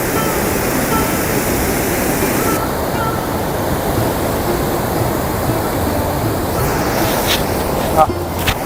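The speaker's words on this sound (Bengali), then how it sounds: "উপরেও ফলসের উপর থেকেও জলটা ধাপে ধাপে পাথরের ধাপে ধাপে আসছে" Bhatinda Falls in Jharkhand, water cascading down stepped rock ledges, giving a dense, continuous roar of falling water close by that fills the whole clip.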